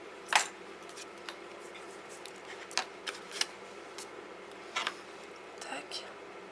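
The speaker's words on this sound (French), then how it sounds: "Je vais enlever mes pinces." Small craft clips are pulled off a handmade surprise box, giving a few sharp clicks and light plastic taps spread over several seconds, with soft handling noise and a quiet whispering voice in between.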